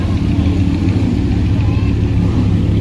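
Vintage cars rumbling at the start of the 2023 Mille Miglia, a dense, loud mix of engine drone and idling close by, with crowd voices mixed in throughout.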